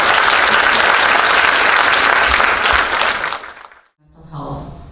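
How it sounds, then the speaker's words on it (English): Loud, dense applause from a banquet crowd for a panel claps steadily for several seconds, then fades out quickly before a brief murmur of voices. "Let's give them one more round of applause"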